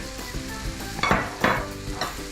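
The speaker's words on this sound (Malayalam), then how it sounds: "ബീൻസ് നന്നായിട്ട് നമ്മൾ ഇതൊന്ന് മിക്സ് ചെയ്ത് കൊടുക്കുക" Potatoes, carrots and beans being stirred into fried masala for a Kerala-style chicken-veg kurma. A steady low sizzle runs throughout, and two louder scraping stirs land close together near the middle. No one speaks.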